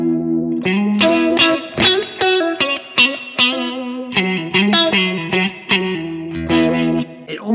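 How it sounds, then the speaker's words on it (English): An electric guitar through an All-Pedal Microdose 4-stage phaser pedal, playing rhythmic chords and notes with a sweeping, slightly wah-like swirl, close and steady with no talking. "It almost has an auto wah kind of flavor about it"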